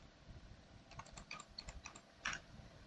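Typing on a computer keyboard, a quick run of light, close key clicks with one heavier keystroke near the end, over faint background hiss.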